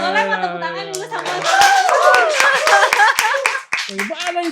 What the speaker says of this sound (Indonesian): Boleh tepuk tangan dulu sama.